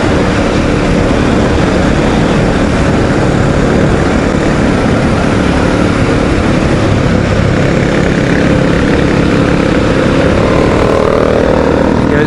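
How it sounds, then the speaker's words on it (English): A KTM 500 EXC-F dirt bike rides along a road, its engine a loud, unbroken drone mixed with heavy wind roar that holds the whole time. "Here's just a bit of footage of Chappy riding the 500 on the road."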